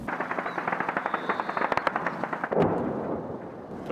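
Rapid bursts of small-arms gunfire with bullets flying during close-range street fighting in Bakhmut, sharp cracks in quick irregular strings, then a heavier blast with a rumbling tail, loud and near.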